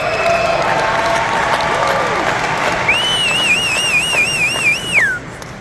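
Crowd applause and cheering at the unveiling of the 240-horsepower Can-Am Maverick R side-by-side, a steady dense roar with a rising whistle partway through, no talk over it.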